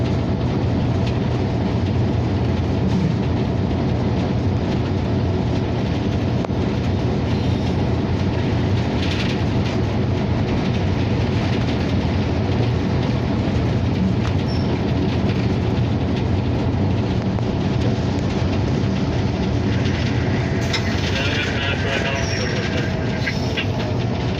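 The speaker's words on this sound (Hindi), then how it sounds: "कराची से ट्रेन आ रही है" A train rumbles steadily past at close range at Shorkot railway station in Pakistan, a dense low roar with rolling wheel noise and occasional squeals, continuous throughout.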